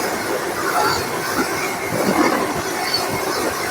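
A Vande Bharat train arriving at Bengaluru railway station, a steady rumble of wheels and carriages rolling along the platform with faint clatter throughout, nearby and continuous.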